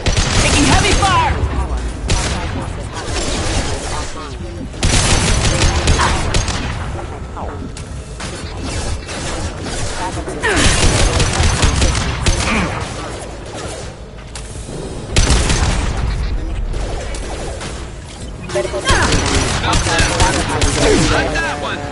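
Heavy gunfire in the video game Mass Effect 2 comes as dense, loud bursts and rattling volleys with booming impacts, surging in waves throughout.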